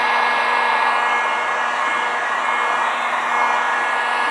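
A hair dryer blows heat onto vinyl graphics on a CFMOTO UForce 1000 XL, a loud, steady whirring hum with a constant tone that holds without a break, close to the listener.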